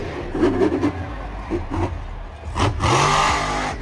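A monster truck engine, a large truck with massive tires and special suspension, revs in loud surging bursts, rising and falling close by with a rough low growl.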